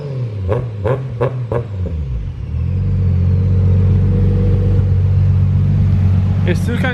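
Nissan Skyline R33 with a swapped RB26 engine idling with a low rumble, blipped a few times, then held in a steady raised rev with a rich exhaust drone, recorded close, with brief voices at the start and end.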